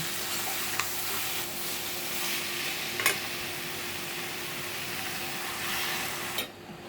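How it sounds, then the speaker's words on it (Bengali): Potatoes sautéing in a pan for a winter rohu fish curry, with a continuous hissing sizzle and a few sharp clicks and scrapes from stirring before the sizzle suddenly drops at the end. "এখানে আমার আলু কষিয়ে নেব"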